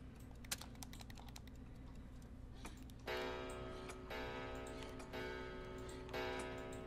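A clock in a video game ticks steadily with sharp, evenly spaced clicks, fairly quiet and with no voices over it.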